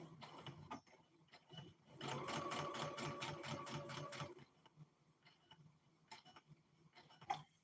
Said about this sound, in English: This one I'm gonna sew all the way around.